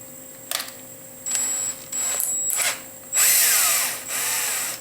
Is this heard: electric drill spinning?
yes